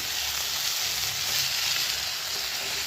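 Steady, close sizzling of cabbage frying in a pan for a cabbage-and-rice dish, a continuous crackling hiss with no voices.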